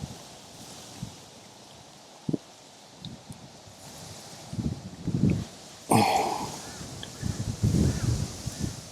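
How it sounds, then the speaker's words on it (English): Wind gusting outdoors at Kiveton Waters fishing lake, a low, buffeting rumble with a rustling hiss that rises and falls in irregular gusts, growing stronger and busier toward the end. "Wind's still hacking down."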